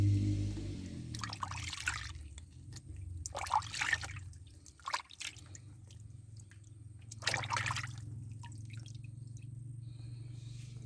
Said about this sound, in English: it's always very important to give it a good rinse